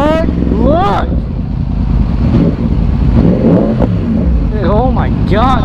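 A Yamaha R1 motorcycle engine bogs and rumbles unevenly in traffic, a loud low drone with wavering pitch, while people talk excitedly over it.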